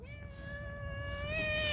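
A pet cat meows one long, drawn-out call that rises slightly in pitch toward the end, loud and close, with no voices over it.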